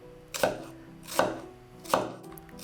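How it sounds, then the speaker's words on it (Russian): An onion is cut finely with a knife on a board, giving three crisp, evenly spaced chops close by in a quiet kitchen, with no speech. "Лук мелко нарезаю."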